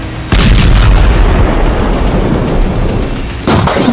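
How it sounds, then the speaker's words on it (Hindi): Bombs and artillery strike in war footage of Israeli attacks on Hezbollah positions, a sudden loud booming blast followed by sustained rumbling roar, then a second heavy impact near the end, with no speech. "लेकिन जब हिजबुल्लाह के ठिकानों पर इजरायल का बम गिरता है तो धमाका बड़ा होता है।"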